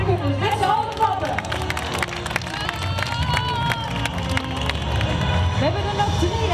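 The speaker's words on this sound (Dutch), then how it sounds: "En daarvoor moeten we met z'n allen super hard gaan klappen." A crowd at a Halloween event clapping hard together, a dense steady stream of many hands with cheering and a voice over it.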